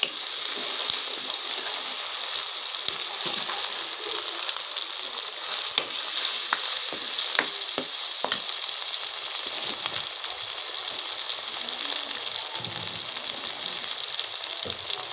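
Tomatoes fry in a kadai for a green pea curry, a steady bright sizzle with scattered pops and crackles throughout, close and continuous with no talking.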